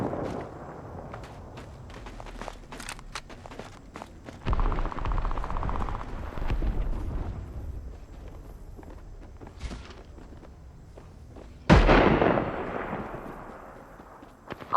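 Gunfire in the Apex Legends video game: a scattered run of sharp shots and bursts in a busy battle mix, with a louder close impact near the end and no talk.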